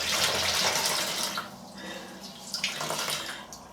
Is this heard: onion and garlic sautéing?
no